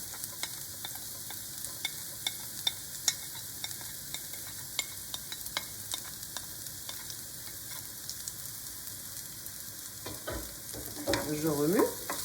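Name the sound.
shallot being stirred while frying in a pan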